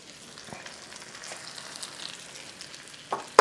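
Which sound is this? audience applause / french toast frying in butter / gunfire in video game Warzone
french toast frying in butter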